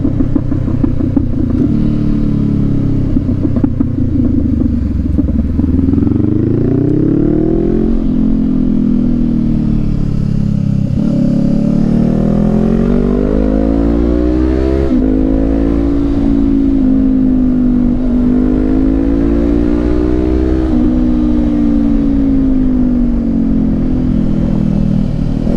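A 2019 Honda CB500X motorcycle engine revs up and down continuously while riding in Portland, Oregon, loud and close, with gear shifts and a rough rumbling throughout.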